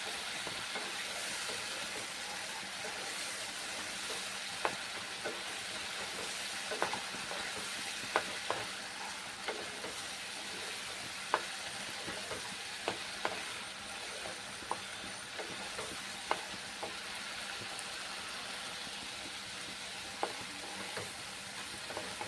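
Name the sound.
tomato, onion and garlic paste being sautéed and stirred in pan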